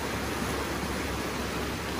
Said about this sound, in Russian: И вот с каким шумом вода уходит в океан.